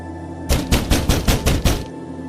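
Seven heavy, rapid thuds of someone pounding on a hostel room door, loud and close, landing in a steady burst and then stopping, with no voices.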